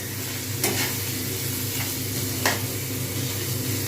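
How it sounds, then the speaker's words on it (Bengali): A spiced mixture being stirred and mashed in a pan while prawn and bottle-gourd-leaf pakoras are made, with a constant frying hiss and a few sharp scrapes of the spoon, no speech. "এবারে আমি এটাকে ভালোভাবে করে ম্যাশ করব যতক্ষণ পর্যন্ত না সব মিহি হচ্ছে ততক্ষণ পর্যন্ত আমাকে কিন্তু এগুলো নেড়ে যেতে হবে"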